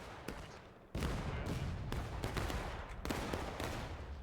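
Artillery and musket fire in a Civil War video game during the Manassas campaign, with a steady roar of battle and several sharp booming reports breaking through.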